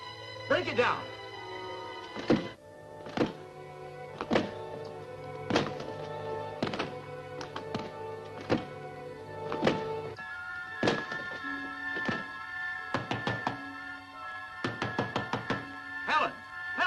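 Repeated heavy thuds of someone forcing a door in a 1945 adventure serial, a dozen or so blows in irregular bursts, loud and close, with shouting voices and tonal music underneath.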